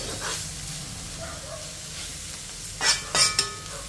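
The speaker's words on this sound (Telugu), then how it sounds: "ఆ ఉల్లిపాయ ముక్కలు మంచి కలర్ రావాలండి అంతవరకు మనం ఫ్రై చేసేసుకోవాలి" Onion pieces fry in a pan with a steady close sizzle, stirred now and then, and a few sharper scraping clatters of the utensil near the end.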